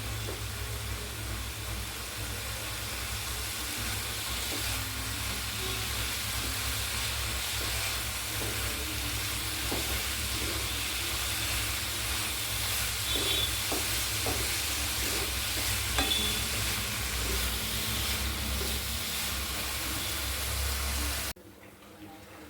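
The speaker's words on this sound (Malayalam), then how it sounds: "റോസ്റ്റിനെല്ലാം ചെമ്മീനും എല്ലാം ഇട്ട് നന്നായി റോസ്റ്റ് ചെയ്യുക" Prawns roasting in oil in a pan give a steady, close sizzle and hiss with occasional scrapes of stirring, running continuously for about twenty seconds before cutting off abruptly near the end.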